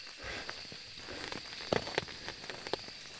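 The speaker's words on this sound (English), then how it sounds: "I think the rain is on purpose." Steady rain falling in the horror video game Phasmophobia, a soft continuous hiss with scattered louder drop taps and crackles, heard alone at a modest level.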